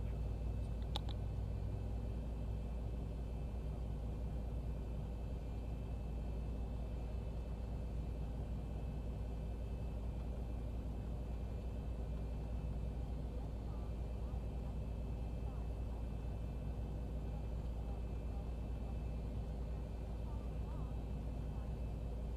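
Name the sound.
Boeing 737 (Zibo Mod) taxiing, flight simulator game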